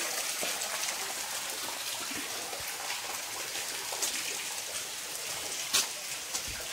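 Water drips and trickles steadily inside a cave at Cherrapunji, a soft continuous hiss like light rain, with a few sharper splashing drops standing out now and then.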